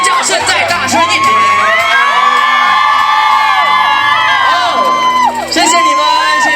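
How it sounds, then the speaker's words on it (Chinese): A school event audience in Pingtung screams and cheers loudly around a live singing performance, with shrill children's voices and whoops layered over music for several seconds. "尖叫声再大声一点"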